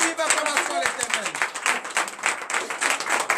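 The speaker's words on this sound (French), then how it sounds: "Donnez encore une vive acclamation à l'Éternel" A church congregation at a Tuesday morning prayer service in Benin claps and cheers together, producing a dense, steady wash of applause. Voices are mixed in throughout the clapping.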